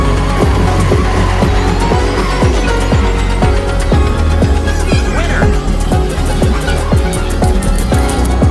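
Arcade racing video game noise in a busy game room, loud synthetic engine roar with tire skidding and squealing effects over a thumping, rhythmic electronic soundtrack, steady and dense throughout.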